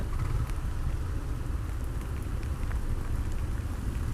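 Heavy rain pouring down around a motorbike rider caught without rain gear on a commuter road, a dense continuous hiss of drops hitting surfaces with low traffic rumble beneath.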